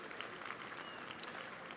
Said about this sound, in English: give yourself a round of applause for being here to support both of these great programs